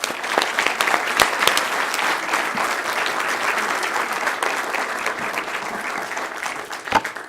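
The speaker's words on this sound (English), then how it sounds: "Give him a round of applause, please." Audience applause at a parish government council meeting, a sustained burst of dense clapping from a room full of people that stays loud and even throughout.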